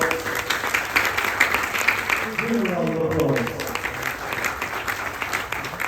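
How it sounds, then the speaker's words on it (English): Steady applause from an audience, a dense wash of clapping that carries on throughout, with a brief voice under the noise midway. "Give Dishansha a round of applause."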